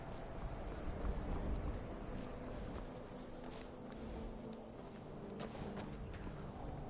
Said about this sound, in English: apparently we just got a new horse